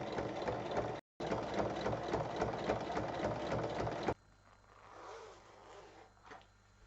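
A sewing machine topstitches a multi-pocket fabric bag, its needle running in a fast, even mechanical chatter for a few seconds after a brief pause, then stopping and leaving quieter handling noise.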